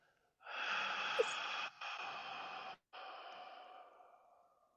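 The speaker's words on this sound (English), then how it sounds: "do a double inhale through your nose, a 10-count exhale through your mouth" Close breathing with a quick double sniff in through the nose followed by a long, airy exhale through the mouth that briefly breaks and fades out.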